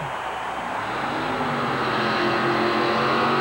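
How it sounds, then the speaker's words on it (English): A carbureted gas-burning Chevy monster truck races through mud at a 1991 USHRA event in New Orleans, its engine a loud, steady, dense roar that fills the whole stretch without a break. "the carbureted, gas-burning, full-bodied Chevy truck of Kuhn moves to the starting line."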